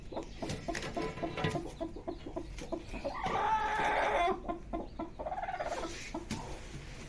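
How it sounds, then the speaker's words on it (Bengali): An Aseel hen clucks in a farm coop near her clutch of eggs, with a run of close, fairly loud clucks and throaty calls; one longer, louder burst stands out midway. "আমার একটা আসিল মুরগি।"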